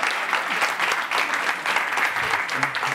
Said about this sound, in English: how about a round of applause for Alex?